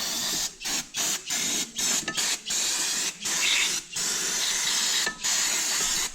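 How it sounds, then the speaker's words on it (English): Carb cleaner sprays onto a Honda K24 engine during a rear main seal replacement, in quick repeated hissing bursts with short breaks between them, loud and close. "Don't go too crazy with the carb cleaner because you might get the paint."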